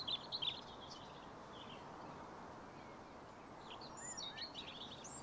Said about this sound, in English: Just as everything starts to calm down a little bit and you get the sound of the birds